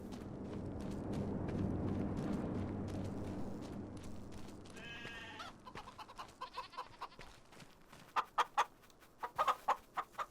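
Video game chickens cluck in short, repeated bursts, first under a low rumbling bed of noise, then more clearly in sharp little calls toward the end.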